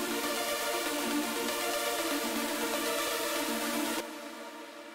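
Synthesized MIDI notes run through arpeggiator and note-repeater effects, giving a steady, fast, evenly repeating electronic pattern that keeps a constant level, then becomes thinner and quieter near the end.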